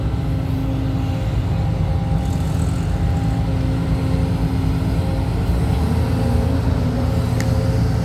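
A Develon Doosan DX220A-2 excavator loading a ten-wheel dump truck, giving a loud continuous diesel engine rumble throughout with faint metallic clanks.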